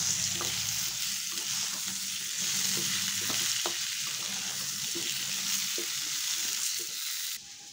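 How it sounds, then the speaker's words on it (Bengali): Mango pieces fry in a little oil in a wok for pickle, a continuous close sizzle broken by repeated scrapes and taps of a stirring spatula, fading slightly at the very end. "কিছুক্ষণ একটু আমগুলোকে এভাবে একটু ভেজে নেব।"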